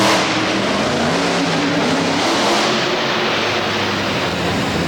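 A monster truck engine roaring loudly and continuously during a freestyle run at a destruction show, a sustained heavy revving drone that stays full throughout with no pauses or voices.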